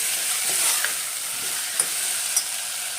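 A spice mixture with salt and garam masala stirred in a hot pan, bright sizzle throughout with a few sharp spoon scrapes and clinks, close and unaccompanied by talk.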